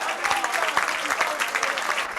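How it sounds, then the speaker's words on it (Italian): Home supporters cheer and clap steadily through the stands at an amateur football match between Pro Favara and Aragona, a dense continuous crowd roar with scattered sharp claps and a commentator's voice running underneath. "si fanno già sentire i tifosi della squadra di casa"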